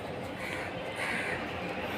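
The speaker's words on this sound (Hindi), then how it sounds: "कौवा लोग आ रहे" Crows cawing at an outdoor household spot where food is being set out for them, a steady noisy wash of calls throughout with no clear separate caws standing out.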